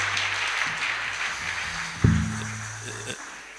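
A church congregation applauds, a soft scattered clatter of clapping mixed with voices, fairly faint, with a brief louder thump partway through.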